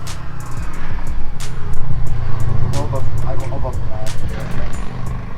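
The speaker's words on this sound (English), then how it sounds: "That guy's just taking a bunch of joy rides through the neighborhood." A car drives through a residential neighborhood, its low engine rumble swelling and fading under people talking nearby.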